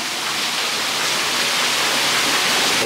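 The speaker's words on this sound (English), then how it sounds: "there's a little waterfall here" A small indoor waterfall in a tropical rainforest enclosure, heard close as a loud, dense, unbroken rush of falling water with no voices.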